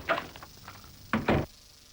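A door bangs shut in a short double knock near the end, after a couple of softer knocks and rustles earlier, close and fairly loud with no voices.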